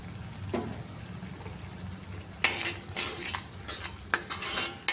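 A spoon clinks and scrapes in a pan while gobi manchurian sauce thickened with cornflour is stirred, a quiet bubbling bed underneath and a run of sharper metallic scrapes in the second half, no voices.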